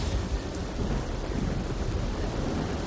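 Steady rain pours down with low rumbling thunder in the Spider-Man 2 video game, a dense continuous wash of sound with no voices.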